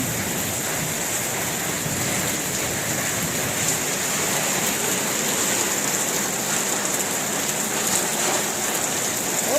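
Heavy storm rain pours steadily, a dense hiss of drops drumming on surfaces, constant and loud with no voices.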